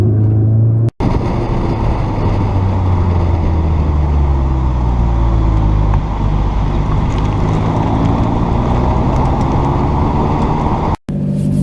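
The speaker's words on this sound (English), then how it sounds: "It was holding the revs there, just upshifted for me." A 2017 Audi S3 in dynamic mode revs hard under acceleration, its engine note climbing steadily and loudly through upshifts with continuous road and cabin noise and no talking.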